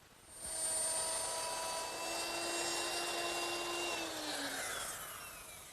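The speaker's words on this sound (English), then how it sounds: "going to use my router, and I've installed a 1/4 inch round nose bit" A router fitted with a 1/4 inch round nose bit spins up with a high whine and cuts recesses in wood, holding steady for several seconds before the pitch slides down as the motor winds down, with no talking.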